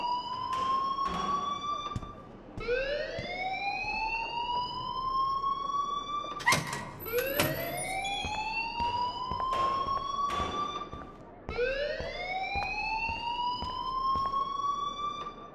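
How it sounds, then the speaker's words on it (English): An alarm rings in the video game Life Is Strange, a loud electronic siren tone that sweeps upward and holds, repeating in four long cycles with brief sharp clicks between them. "please turn off that alarm since that's your job"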